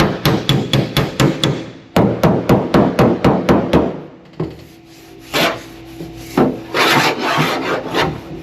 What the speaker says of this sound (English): you can tell by the sound of it that I'm hitting on the dolly